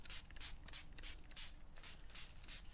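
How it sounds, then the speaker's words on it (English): A small hand spray bottle of tap water mists oyster mushrooms in a quick run of about eight rhythmic, hissing squirts, close and alone. "So I've got a little hand spray here with just water"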